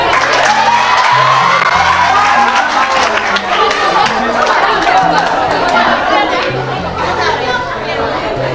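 At a school quiz in Touba, a crowd applauds and cheers a pupil's correct answer, with loud, steady clapping mixed with chatter, whoops and children's shouts throughout.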